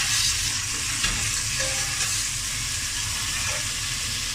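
Onions and tomato frying in a pan for dhaba-style masoor dal, a loud, even sizzle with faint stirring, steady for the whole stretch.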